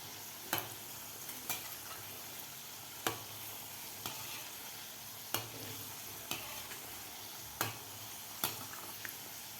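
Modak dumplings fry in moderately hot oil with a soft continuous sizzle, punctuated every second or two by sharp stirring clicks from a utensil against the pan.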